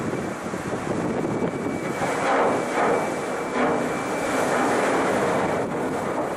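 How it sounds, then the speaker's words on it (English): A helicopter flies low in front of the icebreaker Kapitan Khlebnikov in the Arctic, its engine and rotor a steady droning roar that swells and fades slightly, mixed with wind buffeting the microphone. "the helicopter flew beneath the main deck in front of the ship."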